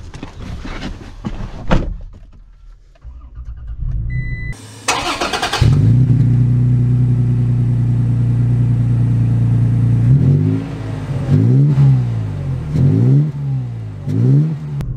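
A 2023 Toyota Tacoma TRD Pro: a door thumps shut and the engine cranks and starts, then settles into a steady idle. Near the end come several rising revs as it pulls away.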